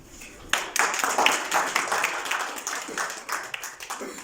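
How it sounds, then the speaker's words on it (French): An audience at a seminar closing ceremony claps for a graduate from Congo, with a burst of clapping starting sharply after a brief pause and continuing steadily, fairly close and lively. "les autres vont vous applaudir"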